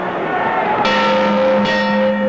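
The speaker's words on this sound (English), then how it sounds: "Bell" A boxing ring bell rings twice to end a round at a heavyweight title bout, each strike a bright sustained clang with a long ringing tail, heard over steady arena crowd noise.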